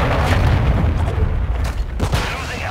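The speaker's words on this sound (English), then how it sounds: "Friendly cruise missile approaching target." A cruise missile strike in Call of Duty Modern Warfare 2 lands as a heavy, rumbling boom with dense low-end blasts and debris crackle, followed by a sharper secondary burst near the end.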